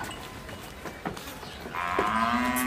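A crossbred Cholistani heifer calf at a livestock sale gives one long, close moo that rises and holds through the last second, after a few faint knocks and rustles.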